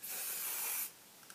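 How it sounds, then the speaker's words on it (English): Hairspray aerosol sprayed onto hair set in heated rollers, one close hissing burst lasting under a second, then quiet with a faint tap. "So what I like to do is hairspray my hair while it's in it"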